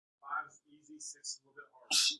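A single sharp sneeze bursts out near the end in a classroom, following a teacher's talk, loud and close.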